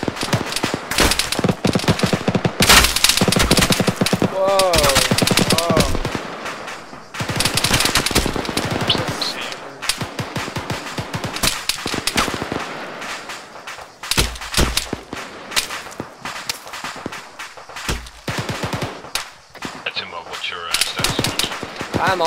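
Rapid gunfire and automatic bursts ring out in an Arma military simulation firefight, loud and near, sustained across the whole stretch with overlapping shots, while players shout and talk over the shooting.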